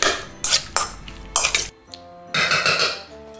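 Salmon, avocado, wasabi, soy sauce and chives are stirred together in a bowl, with close, bright utensil clinks and scrapes against the dish in quick irregular bursts and short pauses.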